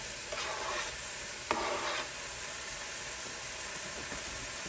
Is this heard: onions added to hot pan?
yes